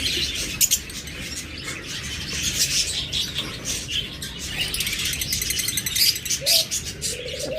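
A pair of lovebirds in a breeder's cage chirping in quick, shrill bursts amid a dense chorus of other caged birds twittering around them, fairly close and continuous, with no speech.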